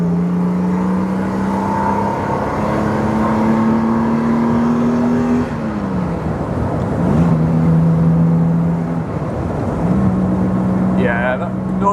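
A classic Jaguar XK140 driving, its engine pulling through the gears with steady drones and shifts, close and loud, while someone talks over it in places.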